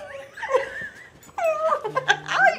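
A woman imitates a dog with a couple of short, yelping bark-like vocal sounds mixed with laughter and breathy giggles, close and fairly loud, during a lively interview.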